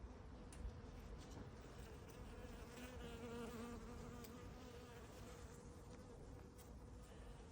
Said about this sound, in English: The bees are out and about.